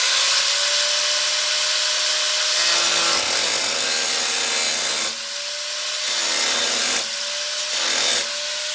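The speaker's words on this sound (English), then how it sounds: "I'm going to get my cutoff wheel and just a little bit so that we can get a flathead screwdriver in there" An abrasive cutoff wheel grinds slots into stripped screws on a speed Duster's rusty sill plate, a loud high whine with a steady ringing tone, broken into several cutting passes by short dips.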